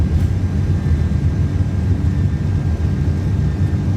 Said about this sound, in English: Takeoff power is set. We're rolling.